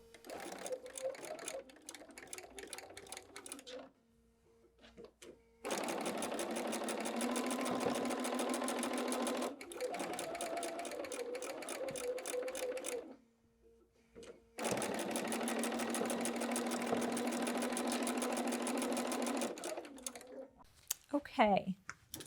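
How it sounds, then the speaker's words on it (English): A sewing machine stitches a quilt seam in three long, steady runs of rapid needle rhythm, separated by brief pauses, close and loud with no talk over it. "let's sew that"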